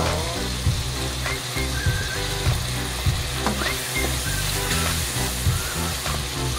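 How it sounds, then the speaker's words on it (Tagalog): Onion sautés in a hot pan for a Filipino tilapia dish, a steady, loud, close sizzle with occasional stirring scrapes and faint clinks. "Ito, sibuyas. Yan, tamang gisa-gisa lang muna."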